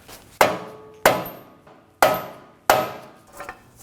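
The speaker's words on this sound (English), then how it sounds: "Using the rubber mallet, gently tap the bottom" A rubber mallet taps the bottom of a CV axle knuckle on a 2017-2024 Nissan Armada 5.6L V8, four sharp, close, solid knocks at an uneven pace, each fading quickly, with a faint clatter near the end.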